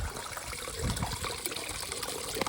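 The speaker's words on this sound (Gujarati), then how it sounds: "મિત્રો આપણે ડોલ ભરાઈ ગઈએ બરાબર." Water runs from a tap or pipe into a bucket being filled to water buffalo on a farm. The trickle and splash are steady and continuous, with no voices.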